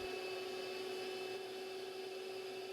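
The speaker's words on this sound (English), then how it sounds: "Using the miter gauge on the table saw, I can create my 45-degree cuts for each edge of the picture frame." A table saw with a miter gauge cutting 45-degree miters in purpleheart picture-frame stock: a steady, faint, high motor whine that holds unbroken for the whole stretch.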